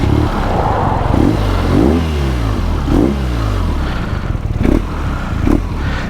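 A BMW R NineT Scrambler's engine revs loudly up close, its deep throbbing idle rising into repeated blips and surges, with no talk over it.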